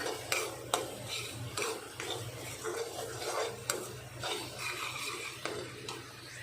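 Aloo gobhi, a potato and cauliflower curry with tomato and freshly added salt, stirred in a pan: repeated soft scraping and rubbing strokes of a spoon at an uneven rhythm over a faint, steady sizzle, close up and without talking.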